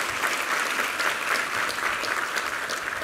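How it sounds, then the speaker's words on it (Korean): A church congregation claps together after a Sunday sermon, a dense, steady wash of applause lasting a few seconds without a break. "우리 하나님께 감사와 영광의 박수 올려드리겠습니다"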